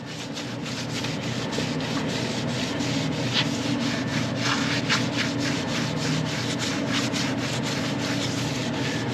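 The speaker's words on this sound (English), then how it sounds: "We'll just wipe this down a little bit to show you that it's not, you know, something that you can wipe off with a rag" A pad rubs back and forth over a waxed surface, a loud, dry, rhythmic scrubbing with steady repeated strokes heard close up and alone.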